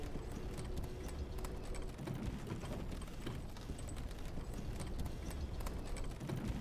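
Steady hoof clip-clop of a trotting horse in the video game Elden Ring, over a constant background wash, with no voices.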